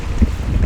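Wind sweeps across a sandy campsite, a brief, steady, rumbling gust buffeting the microphone close up.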